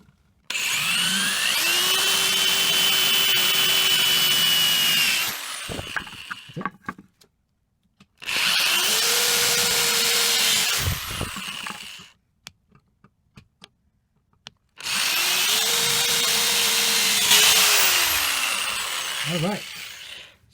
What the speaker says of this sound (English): watch out for the metal flakes when you're drilling into aluminum.